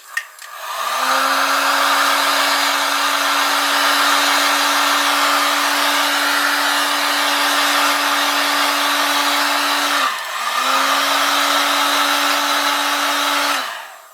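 A hot air blower heats a glued circuit board during a digital conversion of a Liliput SBB NPZ 4/4 model train. It makes a loud, steady whooshing drone that cuts out briefly near ten seconds and then resumes, with no talk over it.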